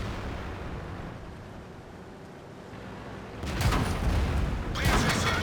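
An enemy tank's main gun fires in World of Tanks, a heavy booming shot with a rumbling tail after a few seconds of low engine drone, followed by a second blast.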